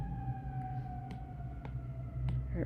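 Emergency vehicle siren in a city, a sustained wailing tone slowly sliding down in pitch, heard in the background over low street rumble with a few faint clicks.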